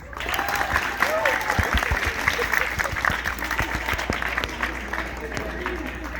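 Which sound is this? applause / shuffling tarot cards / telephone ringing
applause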